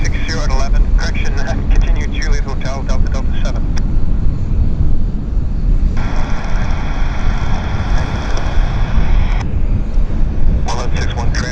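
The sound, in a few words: Air India airliner at Vancouver YVR airport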